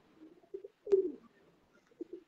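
Faint, low cooing comes from a black-faced Sialkoti pigeon, a few soft throaty murmurs spaced out with a slightly stronger coo near the middle, alone and quiet.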